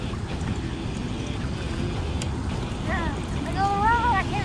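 A fishing boat's outboard motor runs steadily at night during flathead catfish fishing on cut bait, a continuous low rumble with wind noise that swells slightly near the end. Brief bird-like chirps rise above it.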